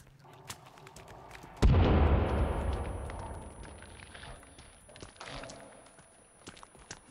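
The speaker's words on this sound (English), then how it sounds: "Well, the sticky bomb definitely worked." A sticky bomb detonates in the survival game Sons of the Forest, one loud sudden blast that rolls into a long fading rumble, with scattered rustling and small knocks before and after.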